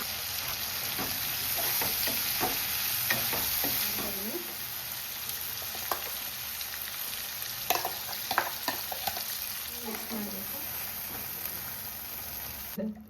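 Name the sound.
chicken curry with chicken masala frying in pan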